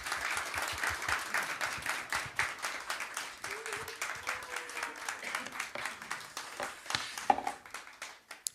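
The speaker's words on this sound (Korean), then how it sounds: "큰 박수, 감사의 박수 한번 주시고 모시겠습니다" Steady, moderately quiet audience applause in a church during a Thursday praise service, welcoming a pastor to the stage; continuous clapping from a crowd throughout, with faint voices and a short tone partway through.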